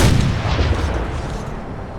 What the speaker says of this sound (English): I don't know where that explosion went.